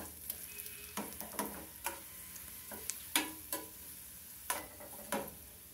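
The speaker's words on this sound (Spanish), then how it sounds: "Aquí ya tengo un sartén con aceite caliente. Los vamos a poner ahí. Los vamos a mover." Dried chiles fry in a pan of hot oil, faintly and close, with a steady soft sizzle broken by irregular crackles and light ticking scrapes as they are stirred, and no talking.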